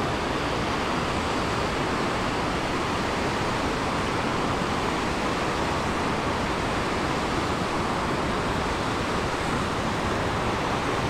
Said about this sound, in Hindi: ये नदी इधर से आ रही है और इधर को जा रही है